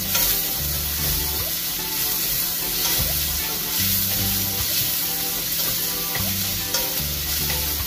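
Garlic sautés in a pan for ginataang manok, a loud close sizzle under repeated stirring strokes and scrapes, with some low rhythmic background hum throughout.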